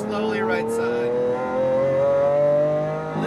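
A supercar, a Porsche GT2 RS or Lamborghini Aventador SVJ, revving hard at full power on a track, a loud sustained engine tone climbing steadily in pitch with cabin noise around it.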